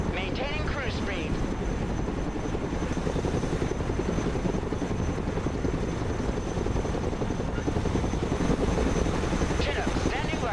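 A Chinook heavy transport helicopter in the video game Broken Arrow flies low at cruise speed, its rotor chop a steady, close, loud drone throughout, with radio voices speaking over it.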